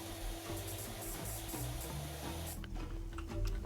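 Pressure washer spraying in PowerWash Simulator 2, a steady loud hiss of water jet that runs without a break, with a faint shift in tone near the end and no voices.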